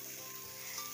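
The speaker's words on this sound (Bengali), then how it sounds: "রাঁধুনির ফুলকপি আলু ভাজছে রাঁধুনি।" Cauliflower and potato pieces fry in hot oil in a home kitchen, giving a steady, close sizzle with no talking.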